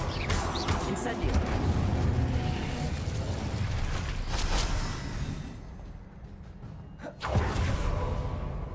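Whooshing, roaring blast of an Incendio fire spell in Hogwarts Legacy, a sustained fiery rush with crackling bursts, dipping briefly before a second surge, mixed with game ambience.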